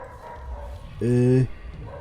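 A single harsh, harmonic bark-like growl from a demon dog in the video game Dishonored 2, about half a second long, rising over a low rumbling game background.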